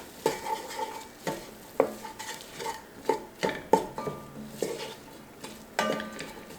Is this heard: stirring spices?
yes